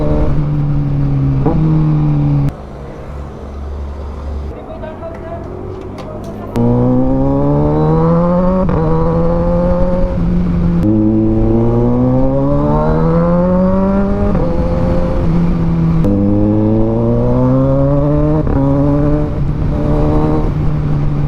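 A 2023 Kawasaki Ninja 1000SX motorcycle accelerates hard and close, its engine tone climbing in pitch through several gears with brief dips at each shift, loud and steady with no talking.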